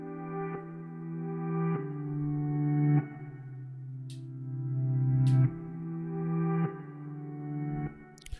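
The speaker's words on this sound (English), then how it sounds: "I have this reversed guitar sample right here" A reversed electric guitar sample treated with delay and EQ for an Afrobeat beat, swelling chords that rise and cut off abruptly every couple of seconds, loud and alone with faint high clicks.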